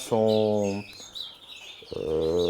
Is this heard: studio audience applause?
no